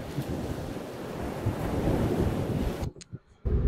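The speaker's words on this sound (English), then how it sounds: "This is the best beach secret in Florida." Ocean surf rolls onto a quiet beach on Jupiter Island, Florida, a steady loud wash of waves with heavy wind buffeting the microphone, cutting out briefly near the end.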